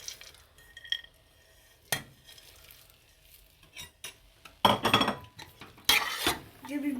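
A spoon stirring fresh orange halwa in a pot gives scattered metallic clinks and scrapes. Between them are quiet gaps, and two louder, sharper bursts of clatter come near the end.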